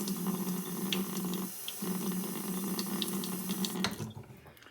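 Water runs steadily from a tap onto a honing stone being wetted for sharpening an ERN 2611 straight razor, a continuous splashing stream that briefly dips then cuts off near the end.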